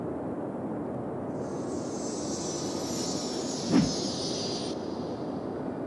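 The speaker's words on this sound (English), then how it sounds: "Was that an airplane?" An airplane passing overhead in the Cities: Skylines city-building game, a hissing high jet whine that swells in and cuts off after a few seconds over a steady ambient city rumble, with one brief soft thump midway.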